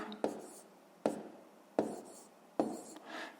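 Pen or chalk writes numbers for long division by hand in a 5th-grade maths exercise, giving four sharp scratchy strokes at a steady pace, close and moderately loud, with soft speech underneath.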